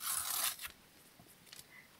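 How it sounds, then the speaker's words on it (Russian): A paper packet of dinosaur stickers is torn open with one quick, close ripping burst at the start, followed by a few faint crinkles and rustles as it is handled in quiet. "давайте теперь откроем пакетики и узнаем, кто нам попадется"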